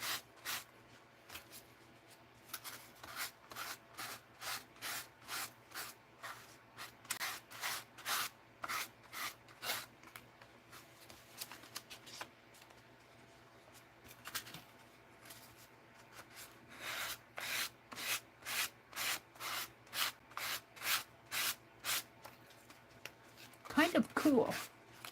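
Pen scratching as it doodles on cards and tags, quick rhythmic bursts of dry rasping strokes repeated through the whole stretch, close and fairly quiet, with brief pauses and a louder rustle near the end.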